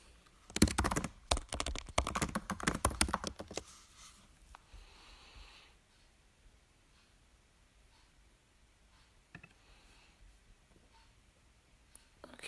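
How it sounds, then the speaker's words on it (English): Rapid computer-keyboard typing, a dense burst of close clicks for about three seconds, then a few sparse faint taps and quiet room noise. "Let's type this all in."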